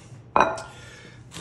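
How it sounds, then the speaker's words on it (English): Croutons tipped into a salad bowl make one short, bright clatter, then a faint settling rattle, close and alone. "I'm gonna add the croutons in."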